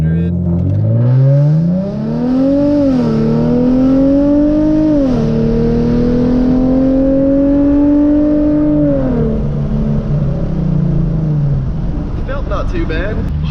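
A Genesis Coupe 3.8 launches from about 1700 rpm on a hot day, its engine note climbing steadily through the gears with shift dips, loud and close, then easing off near the end.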